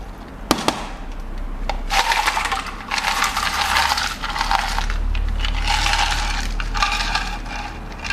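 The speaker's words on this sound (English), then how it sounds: "I'm going to fill this with ice, fill this to the top, and then place it into our serving cup." Ice cubes clatter and crunch as they are scooped and poured into a 16-ounce cup for an iced vanilla latte, with rattling bursts and a sharp clink near the start, heard close with no talk.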